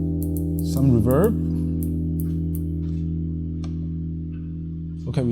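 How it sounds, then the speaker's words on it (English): A guitar chord sustains through the plate reverb of a BOSS GT-1000 CORE processor, ringing steadily with a brief bent-note swell near the start and a softer pick near the end, no voices over it. "Okay, we choose plate."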